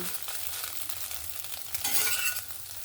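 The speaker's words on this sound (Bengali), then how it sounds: "আমার ডিমটা এখানে ভাজা হয়ে গেছে" An egg sizzles and crackles in a hot pan, with soft stirring scrapes and a brief louder burst of frying near the end.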